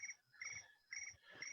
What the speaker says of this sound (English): Everybody hear my crickets?